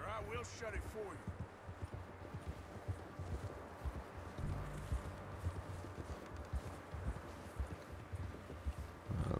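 Horse hooves clip-clop in Red Dead Redemption 2 while the horse is ridden, a steady rhythmic clopping under game ambience and a voice talking over it.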